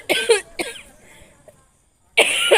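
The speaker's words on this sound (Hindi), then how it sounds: "बहुत ज़्यादा खांसी आ रही है।" A woman with a persistent bad cough, several harsh, close coughs in a burst, a quiet gap, then another loud cough.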